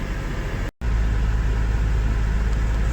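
A 2002 Pontiac Bonneville with a 3.8 engine drives along a road, giving a loud, steady low rumble of engine and road noise with one brief dropout.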